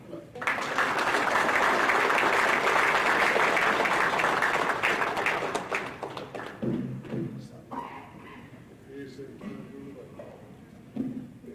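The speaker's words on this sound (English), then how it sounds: "So I'd like to give an applause to Romeo." Audience at a high school football banquet breaks into loud, dense applause that fades after several seconds, leaving scattered claps, thumps and murmured talk in the room.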